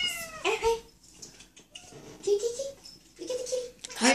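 A house cat meows several times, short rising cries spaced a second or two apart, fairly close, with people speaking softly in the background between calls.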